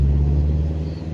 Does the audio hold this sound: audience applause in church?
no